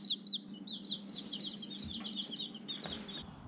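Baby chicks, Cream Legbars and yellow Light Brahmas, peep in quick high chirps, several overlapping, over a low steady background hum.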